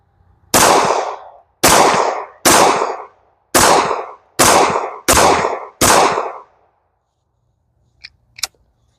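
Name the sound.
Canik TP9 pistol firing reloaded ammunition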